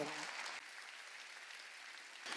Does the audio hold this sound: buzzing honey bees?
no